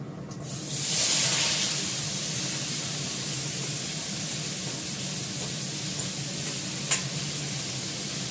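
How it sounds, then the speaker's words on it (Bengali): Black cumin seeds sizzle and crackle in hot oil for a tempering, a steady close, hissing fry running the whole time with a brief louder burst near the start and a sharp tick late on; no one speaks. "কালো জিরে ফোড়ন দিলাম।"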